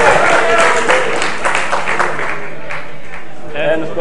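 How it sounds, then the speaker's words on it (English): Esports crowd at a StarCraft II tournament match on the Ohana map cheering and applauding for the Zerg player, a broad steady roar of clapping and shouts filling the whole stretch, swelling near the start and again near the end. "If you want Bblack to make a comeback, give a cheer for him"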